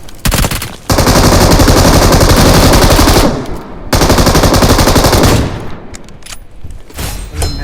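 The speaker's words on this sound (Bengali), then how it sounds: "মেশিন গুলো যে ফায়ার" Loud machine gun fire in a video game, delivered in long, continuous rapid bursts separated by short pauses, with a final few scattered shots at the end.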